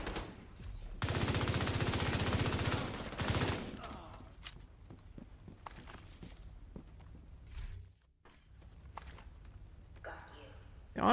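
Light machine gun fire in The Division 2 comes as a loud sustained burst, followed by scattered single shots, impacts and footsteps, while a player talks over the game audio.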